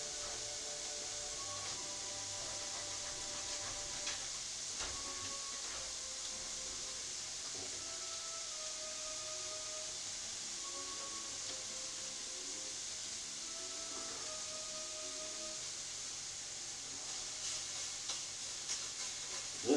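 Breakfast burrito filling sizzles in butter in a sticking pan, a steady close hiss that runs for the whole stretch with music playing faintly underneath.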